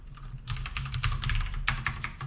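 Fingers type JavaScript code on a computer keyboard, a quick close run of soft key clicks in uneven bursts with a brief pause near the end.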